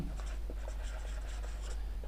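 A marker or chalk writing on a board in a classroom lesson, with short scratchy strokes in quick bursts, close and clear over a steady low hum.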